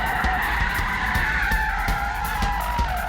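A Mitsubishi Lancer Evolution FQ360 spins all four wheels, its tyres squealing in a steady, loud, sustained screech over the engine's drone, with rhythmic scrubbing pulses throughout and no voices.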